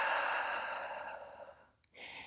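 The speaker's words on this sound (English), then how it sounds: "take a nice big inhale and exhale" Slow, deep breathing during a postpartum core-restore exercise, a long airy exhale trailing off, a brief pause, then a fresh inhale beginning, close and soft with no talking.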